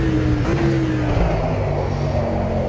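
A car engine in a racing video game hums steadily, then its pitch steps and drops through a downshift before settling back into a continuous, fairly loud drone.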